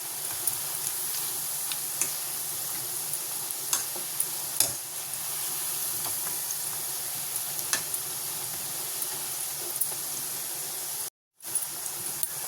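Onion pakoda frying in hot oil, a steady dense sizzle and bubbling hiss with occasional small pops and crackles, close and continuous apart from one brief dropout near the end.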